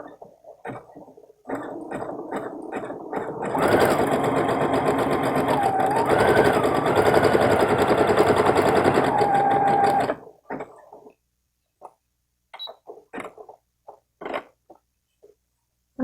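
Sewing machine with a beading and rhinestone presser foot running steadily for several seconds in a close, loud hum, with clicks and handling sounds before and after and a short remark at the start.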